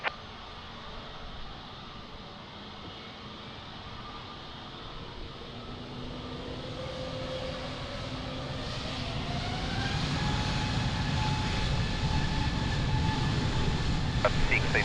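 A jet airliner on takeoff from runway 02 at Lisbon Airport builds into a steady, swelling engine roar with whining tones that grow louder through the whole stretch, heard from a distance with no talk.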